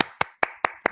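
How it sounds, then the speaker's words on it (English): A handful of crisp, sharp hand claps on a football podcast, about five evenly spaced claps in under a second, close and dry with no crowd. "So round of applause to Emiliano."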